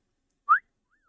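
A person whistles a single short, bright note that rises slightly, followed by a faint, softer whistled tail, close and alone in silence.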